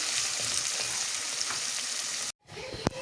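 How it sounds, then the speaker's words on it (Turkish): Onions sizzling as they sauté in a pan for an eggplant kavurma dish, a loud steady close hiss that cuts off abruptly, then a quieter sizzle with a sharp clink. "İlk önce soğanı güzelce kavuruyorum."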